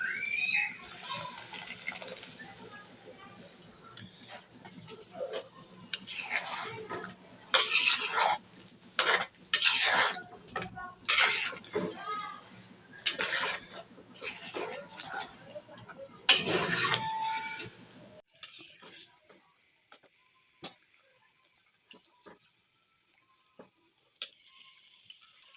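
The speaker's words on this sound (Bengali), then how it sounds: "এখন আমি এই পেস্টটা দিয়ে দিচ্ছি চিকেনে।" Coriander leaf paste goes into browned chicken in a pan and is stirred in, with bursts of frying sizzle, scraping spoon strokes and soft clinks against the pan before it quiets to a low simmer.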